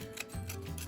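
Scissors snip through a thin napkin laid over a wooden earring blank, a couple of quick, faint, close cutting strokes with soft rubbing in a quiet room.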